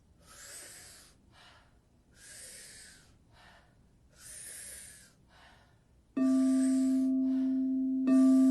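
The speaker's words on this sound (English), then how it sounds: "The in-breath is as deep and powerful as you can take it." Wim Hof style breathing: three slow cycles of deep, forceful inhales and softer mouth exhales repeat rhythmically up close, followed by a steady electronic tone.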